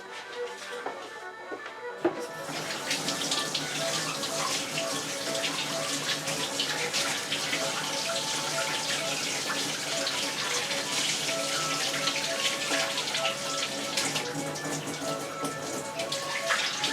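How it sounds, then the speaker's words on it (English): A wooden hand-crank coffee grinder part is rinsed under hot running tap water, a steady hiss and splash of water that starts abruptly and continues at an even level throughout, with no speech. "it would be better to run that under hot water."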